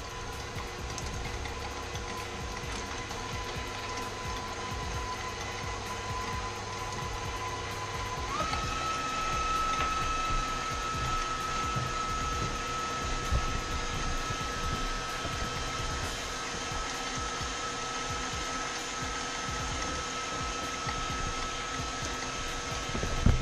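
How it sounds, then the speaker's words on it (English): A stand mixer whips ingredients for a gluten-free strawberry shortcake, making a steady, moderately quiet motor whir that runs throughout. Its pitch shifts slightly partway through, with no talking. "So we're going to start the mixer."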